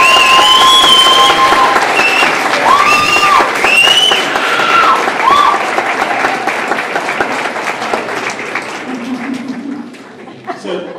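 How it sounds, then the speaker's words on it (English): Audience at a community livability planning meeting breaks into applause with some cheering and light laughter, loud at first and slowly fading, with whistles or voices riding on top early on and talk returning at the end. "Let's just give her a round of applause."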